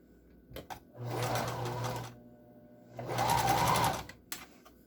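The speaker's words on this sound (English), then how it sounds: "Okay, and we're going to sew this down." Sewing machine stitching a seam on an N95 face mask, two bursts of steady motor hum about a second each with a pause between, close and clear, with light handling clicks around them.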